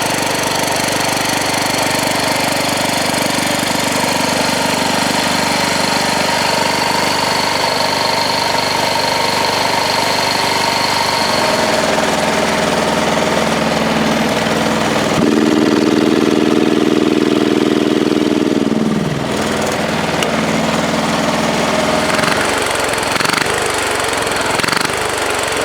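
A cold diesel Wheel Horse garden tractor engine idles steadily after a cold start, a loud, continuous close-up rumble with a brief rise in revs partway through before settling back to idle.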